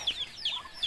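Chicks and chickens on a Filipino backyard farm give three quick, faint high-pitched peeps or clucks in rapid succession, fairly close, with no talk.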